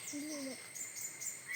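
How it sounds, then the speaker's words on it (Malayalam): Birds calling outdoors, with a couple of short hooting, owl-like calls near the start and thin high chirps scattered over a steady background hiss; no voices. "പിന്നെ വേറെന്തൊക്കെയോ കിളികളൊക്കെ കരയുന്നൊക്കെ ഉണ്ട്."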